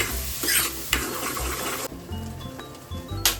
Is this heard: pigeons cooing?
no